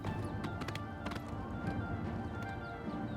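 Horse galloping in Oblivion Remastered: fast, rhythmic hoofbeats pound steadily for about three seconds over low game music and ambience.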